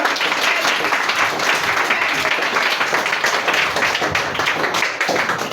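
A church congregation breaks into sustained applause, many hands clapping in a dense, even roar that fills the room from start to finish, with a few faint voices mixed in.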